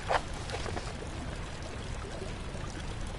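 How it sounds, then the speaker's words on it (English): Water leaks from a loose pipe in Amnesia: The Dark Descent, a steady low hiss of running water with a brief louder splash at the start and no talk. "Loose and leaking water."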